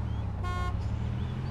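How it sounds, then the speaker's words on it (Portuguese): A single short car horn blast in the video game ArmA 2 DayZ mod, sounding once for about a third of a second over low, rumbling background noise. "Ah, ouvi vocês buzinando."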